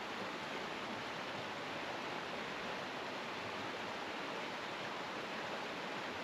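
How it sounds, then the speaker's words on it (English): Creek water rolls over rocks at Caesars Creek State Park, a soft, even rush of flowing water that continues unbroken and fairly quiet, with no one speaking. "Just listening to the sound of that water rolling over the rocks"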